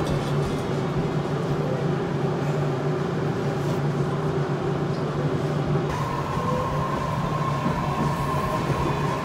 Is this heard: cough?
no